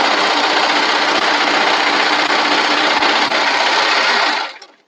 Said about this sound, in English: So I'm just literally serging both sides.